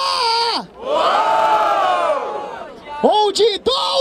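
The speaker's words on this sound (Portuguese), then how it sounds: "Barulho para as rimas do Big Mike PTK" Crowd at a Brazilian freestyle rap battle roaring, whooping and shouting in two loud bursts, the first long and sustained, the second a series of shorter cries.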